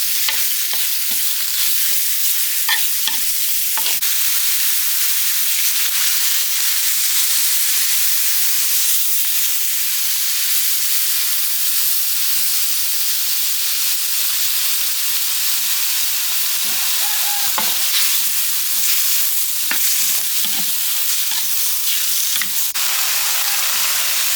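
Pork stir-fries in a pan with kaffir lime leaves, a long, continuous bright sizzle with scattered clicks and scrapes of stirring throughout.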